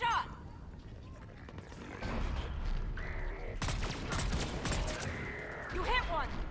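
Gunfire in a video game shootout, bursts of rapid shots and sharp cracks at mid distance mixed with voices talking over the fight.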